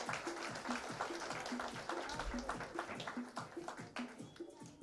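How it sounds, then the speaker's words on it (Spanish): Applause for a baptized child at a family christening celebration, a crowd clapping steadily at moderate distance with voices mixed in throughout. "Vamos a darle un fuerte aplauso, a ver, al niño bautizado Cris Yunga"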